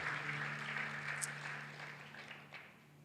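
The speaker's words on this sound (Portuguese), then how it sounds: "Você pode aplaudir o Senhor Jesus?" A church congregation applauds during a worship service, a soft, steady wash of clapping that lasts a few seconds and gradually fades, quiet and somewhat distant over a low hum.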